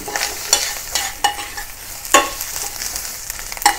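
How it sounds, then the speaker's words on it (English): Onion sauteing in a pan with garlic and ginger for Hong Kong style pan-fried pork chops, a steady close sizzle broken by several scraping stirs of a utensil. "Saute the onion until it turns soft."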